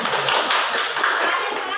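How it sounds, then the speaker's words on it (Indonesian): Students in a mathematics classroom clap their hands together in a dense, continuous patter of many close claps, with children's voices mixed in. "Ya udah, tepuk tangan untuk kali ini"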